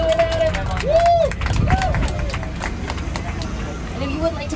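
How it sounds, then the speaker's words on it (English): Passengers on the Universal Hollywood studio tour clapping for their driver: a brisk round of applause with cheering, heard under an amplified voice and the hum of the moving tram. "Everybody give a huge round of applause to Jesse, our incredible driver."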